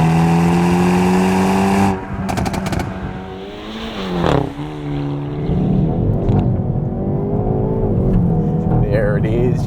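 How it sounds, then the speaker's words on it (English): A Hyundai i30 N with a dual-clutch automatic revs hard and close, its rasping engine note climbing and falling, with sharp exhaust cracks and pops bursting out as the revs drop. "You're getting cracks and pops. Go back through the gears there, give it another punch."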